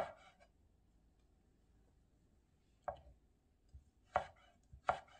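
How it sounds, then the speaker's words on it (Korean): A kitchen knife julienning vegetables for chiljeolpan on a cutting board, a few crisp, separate chops spaced irregularly, close and clear over a quiet room. "채 같이 썰어주세요"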